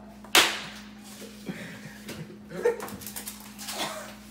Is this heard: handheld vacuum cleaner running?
no